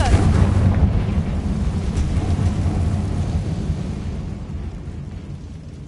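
A Confringo fire-blast spell explodes in Hogwarts Legacy on PS5, a loud, deep rumbling boom that rolls on for several seconds and slowly fades.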